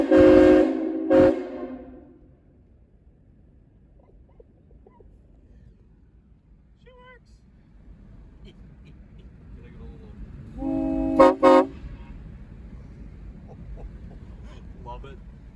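Nathan M5 train air horn fitted with a Graham White valve, two loud chord blasts, one at the start and another after a quiet stretch of background noise.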